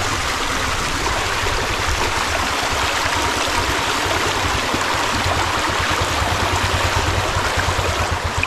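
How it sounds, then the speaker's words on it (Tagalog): Steady rushing river water flowing continuously, a broad even wash of sound with no pauses and no voices. "nandito na po tayo sa ilog."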